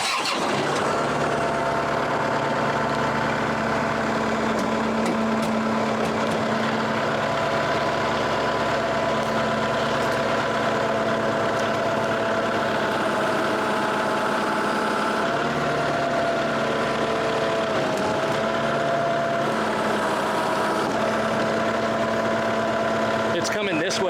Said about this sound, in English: I'm gonna try to lift it with the tractor.